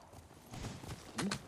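Quick hoof clip-clops of a horse galloping in the video game Ghost of Tsushima, a short burst of rhythmic thuds with a sharp higher squeal near the end.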